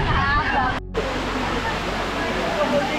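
Stream water rushes and splashes steadily where people bathe in a monsoon stream at Sanjay Gandhi National Park, with a broad constant wash and a babble of voices in the background.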